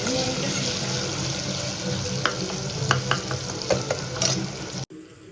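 Close, loud sizzling in a pan as food with chutney, salt and mung beans is stirred, with scattered clinks and scrapes of a utensil over the steady frying hiss before it cuts off abruptly.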